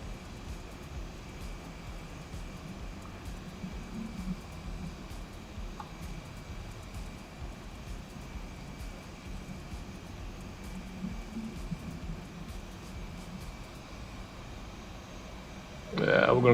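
An Airbus A320 taxiing in X-Plane 11, heard as a steady, low, even engine hum and airy hiss that runs unchanged throughout, faint and constant, with a brief louder burst at the very end.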